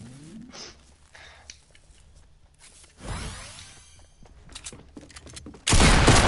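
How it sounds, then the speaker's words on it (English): Bursts of video game gunfire with whooshing sweeps, sparse cracks at first, then a rising rushing sweep and a loud dense blast of fire at the end. "Why is it shooting?"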